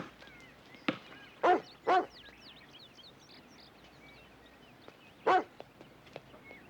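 An old dog barking in short separate bursts, a few loud woofs spaced out against a quiet outdoor background with faint birds.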